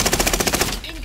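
Rapid automatic gunfire in the video game Call of Duty: Modern Warfare, a loud, even burst of about a dozen shots that cuts off near the end.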